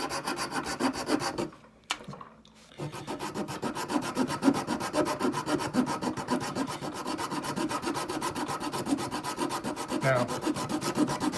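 Knife blade shaving thin wafers off a piece of fatwood, a steady close scraping rasp in rapid repeated strokes, briefly stopping near the start and then continuing without talk.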